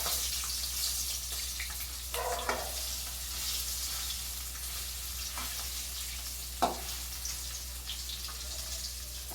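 Paneer pieces frying lightly in a pan give a soft, steady sizzle throughout, broken by a few short clicks and scrapes of stirring.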